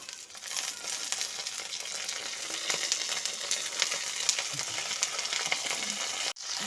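Cut onion stalks fry together with eggplant in a pan, making a dense, continuous close sizzle with light crackles and a brief break near the end; no one speaks.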